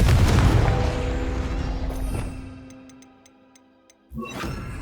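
A Confringo fire-blast spell in Hogwarts Legacy erupts as a loud, booming burst that rumbles and fades over several seconds, with faint ticking in the tail, before a second sharp impact near the end.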